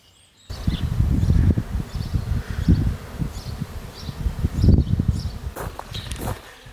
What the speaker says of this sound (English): A massive swarm of bees has just arrived. And they're settling here.